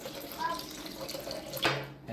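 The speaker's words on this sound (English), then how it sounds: "Now add the second portion of the coconut milk" Coconut milk poured into hopper (appam) batter, a brief liquid pour late in the clip with a soft splashy rush over a background of light room noise and faint voice-like murmur.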